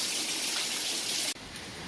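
Rainwater pours steadily from a clogged gutter in a loud, hissing gush close by, then abruptly drops to a quieter trickle near the end.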